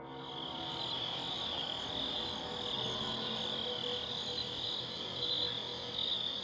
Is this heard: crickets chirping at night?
yes